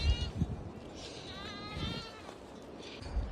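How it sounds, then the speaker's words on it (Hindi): A large herd of about 900 goats kept by Bakerwal shepherds in hill country bleats in overlapping, quavering calls, mid-distance, over low rumbling outdoor noise and a few thumps. "900 करीब बकरियां हैं ये।"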